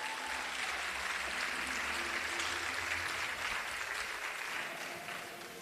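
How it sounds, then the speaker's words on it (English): A conference audience claps steadily for several seconds, a dense wash of applause that fades slightly at the end. "Clap for yourselves."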